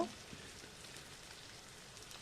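Chicken pieces fry in a pan for a restaurant-style shahi chicken korma, a soft, even crackling sizzle that stays steady throughout, faint and alone.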